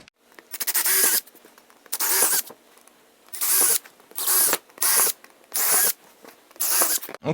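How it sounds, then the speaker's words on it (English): A power drill whirs in seven short bursts with brief pauses between, each a high, gritty whine as it bores holes while building a tufted vanity stool. "So what I'm going to do now is drill some holes"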